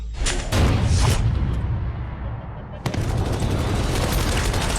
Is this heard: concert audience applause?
no